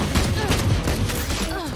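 Sheriff pistol gunshots in the Valorant video game, a burst of loud sharp shots over busy in-game noise and music.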